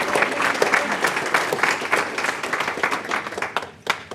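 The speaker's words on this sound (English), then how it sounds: "we have to give her a round of applause" A school board meeting audience applauds an art teacher from Tanglin, a lively round of clapping sustained for about four seconds before tapering off into a few last claps.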